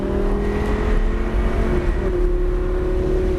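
A car accelerates on a race track circuit during a driving session, with a steady, loud engine drone and rising whir held close and continuous throughout, no talking over it.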